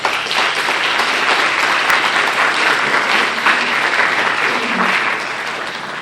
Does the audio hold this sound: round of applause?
yes